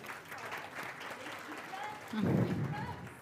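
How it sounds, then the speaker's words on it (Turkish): Applause from an audience rises and swells toward the end, heard over a steady background murmur of voices. "Yüksek bir alkış lütfen."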